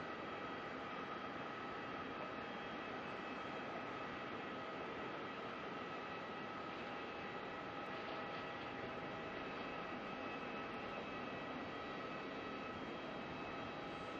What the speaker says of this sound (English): got another Jetstar flying over the top of us from Avalon, heading to the Gold Coast